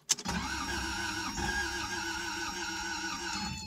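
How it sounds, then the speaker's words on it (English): A car engine powered only by a compact Balight 1200A jump starter pack gives a brief crank, then settles into a steady, close engine hum that runs without pause. "You can see it cranks just like it has a battery with just the jump starter pack on it."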